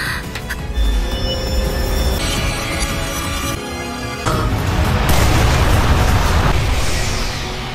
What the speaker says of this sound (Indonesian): Alhasil ledakan besar pun menggelegar.